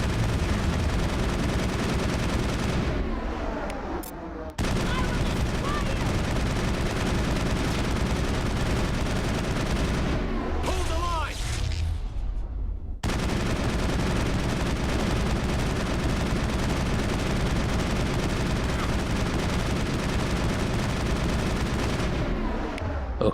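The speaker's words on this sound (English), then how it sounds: "gonna have to retreat a little bit to avoid the sniper fire" Heavy gunfire fills a Mass Effect 1 firefight, sniper fire included, with dense, loud, continuous rattling volleys that break off briefly twice before resuming at full intensity.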